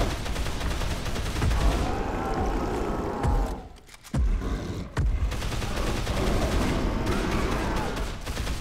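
Gunfire in the video game Dead Island Riptide comes as a dense, continuous rattle of shots that drops out for a brief moment in the middle and then resumes just as loud.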